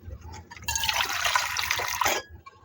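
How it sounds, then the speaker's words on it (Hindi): Water poured out of a clay pot into a basin, a splashing, trickling gush lasting under two seconds that starts abruptly and then stops, with quiet room sound around it. "हम इस पानी को गिरा देंगे।"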